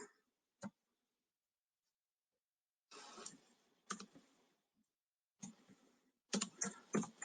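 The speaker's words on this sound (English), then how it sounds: "We can type right into the doc." Fingers type on a computer keyboard to enter notes into a document, with quiet scattered bursts of key clicks separated by silent gaps, close by and faint.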